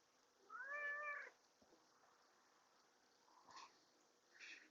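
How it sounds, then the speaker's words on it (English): A house cat meows once, a clear drawn-out mew near the microphone, wanting to be petted; afterward come faint soft rustles and small thumps in a quiet outdoor setting with no talking. "I got a kitty just bumping, mad at me for just standing here and not petting him."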